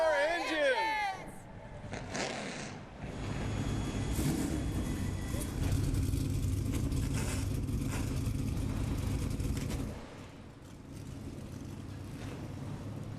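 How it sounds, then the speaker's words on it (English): ARCA Menards Series race cars fire up their engines at Bristol Motor Speedway: after a brief voice, a loud, dense, sustained roar of many engines builds, holds for several seconds, then eases slightly. "drivers, start your engines!"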